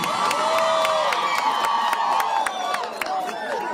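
Crowd at a Kenyan presidential event in Luo Nyanza cheering and clapping for President Ruto, a dense, sustained roar of voices with scattered claps and shouts throughout.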